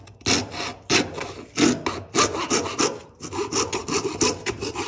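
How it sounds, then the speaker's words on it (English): The edge of a pair of pliers scrapes a small wooden part of a mousetrap car in rough, rhythmic strokes, about a dozen close rasping scrapes with brief gaps between them. "If you don't have sandpaper, you could use like the edge of your pliers, which is what I'm doing"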